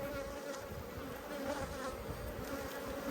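Honeybees pour out of an opened hive in a steady, dense buzz that stays close and loud throughout, with no voices over it.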